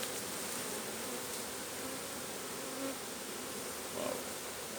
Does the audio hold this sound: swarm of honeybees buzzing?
yes